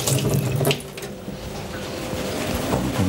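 Tap water runs steadily into a kitchen sink as hands are washed clean of flour while cooking a beef and ale stew, close and continuous for the whole stretch with no talking.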